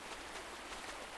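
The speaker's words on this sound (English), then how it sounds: "but I'm loving the rain." Rain falls in the video game Pumpkin Days as a steady, soft, hissing wash, faint and continuous with no other sounds standing out.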